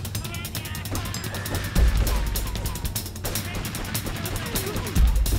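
Gunfire in Grand Theft Auto 3 Definitive Edition, a busy mix of rapid shots over game ambience, with heavier low bursts around two and five seconds.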